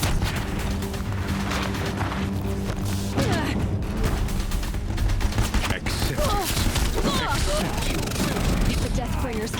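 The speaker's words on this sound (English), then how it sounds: "If the Deathbringers keep firing" Deathbringer war machines in Horizon Zero Dawn pour out sustained heavy gunfire, dense rapid bursts and booms over a low droning hum, loud and continuous, with voices shouting over the barrage.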